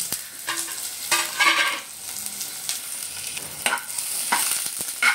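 Garlic and onion tempering sizzles and crackles in hot oil for a fish curry, with bursts of hissing and occasional stirring clinks from a pan, fairly close and without speech.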